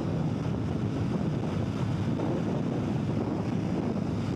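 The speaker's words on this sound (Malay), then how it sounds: "angin agak kuat juga" Strong wind buffets the microphone of a rider on a Suzuki SV650 naked motorcycle in a constant low roar and rumble, steady throughout with no voices.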